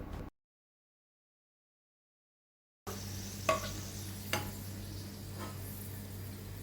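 After a short stretch of silence, bitter gourd slices fry in hot oil with a faint, steady sizzle. A few soft ticks and clicks sound from the pan.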